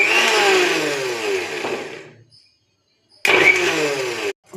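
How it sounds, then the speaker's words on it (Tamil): A mixer grinder blends curd in a jar, whirring loudly with a falling pitch as it spins down, then cuts to silence before a second short burst starts abruptly and stops. "ஒரு மிக்ஸி ஜாரில் போட்டு நல்லா அடித்து எடுத்துக்கணும்."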